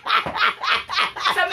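A dog barks in a quick series of five close, bright yaps in even rhythm, loud and alone without any talking.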